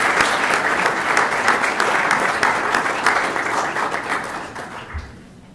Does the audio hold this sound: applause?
yes